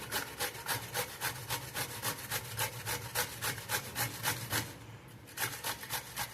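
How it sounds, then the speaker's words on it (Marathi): Cucumber with the peel left on is rubbed against a grater in a fast, steady back-and-forth rhythm of rasping strokes, close and clear with a brief pause near the end. "आता ना मी काकडी किसून घेते."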